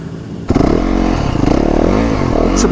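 A motorcycle spinning a donut, its engine revving hard and close by, with a loud, continuous rising and falling whine and some tire scrape throughout.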